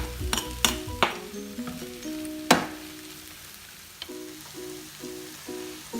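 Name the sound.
finely chopped garlic sizzling as it is added to the pan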